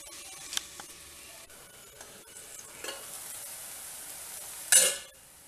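Chopped banana flower frying in a pan for a Tamil-style kurma, a quiet steady sizzle broken by scraping stirs of a spoon, with one louder burst of hiss near the end.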